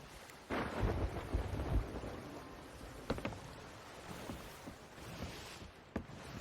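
Thunder rumbles and cracks amid a steady wash of rain and wind in a sea-voyage game storm, with a heavy roll early on and sharp cracks later, no voices.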